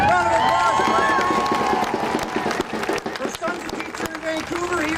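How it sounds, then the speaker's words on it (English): Crowd applause and cheering at an education rally, a sustained wash of clapping with shouts and a voice carrying over it, thinning out toward the end. "Round of applause for Irene."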